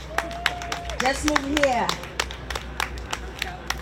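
Scattered hand claps from an outdoor audience at a Haitian music festival in a Miami park, sharp irregular claps under talking voices and a sustained tone.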